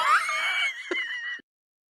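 An Ugnaught alien from Star Wars lets out a shrill, wavering screech lasting over a second, close and loud, then cuts off abruptly into silence.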